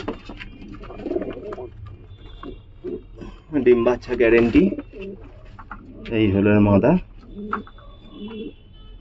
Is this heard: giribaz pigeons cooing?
yes